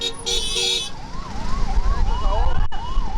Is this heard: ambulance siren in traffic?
yes